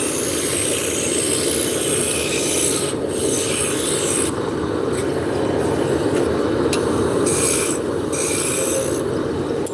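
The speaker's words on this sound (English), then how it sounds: "I'm going to switch from the roughing gouge to a spindle gouge" Spindle gouge cutting wood spinning on a lathe, a loud continuous rasping hiss with a steady motor rumble underneath, close and unbroken, no talk.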